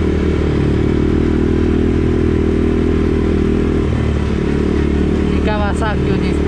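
Fuel-injected Kawasaki ATV engine running steadily, a loud, continuous droning roar with clattering texture throughout, close by, with brief voice-like sounds near the end.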